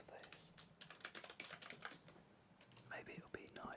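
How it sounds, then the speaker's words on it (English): Computer keyboard being typed on in a quiet room, a steady run of light, close clicking keystrokes with brief pauses and a few soft whispery sounds. "Maybe it'll be nice for keyboard sounds"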